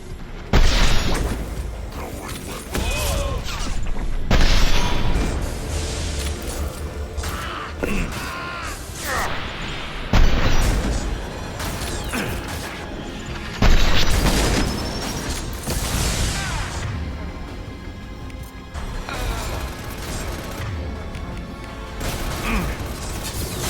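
A heavy mech attacks overhead in the Mass Effect 2 battle on Tuchanka, with loud repeated booms, explosive bursts and clanking mechanical rattles that rise and fall across the whole stretch.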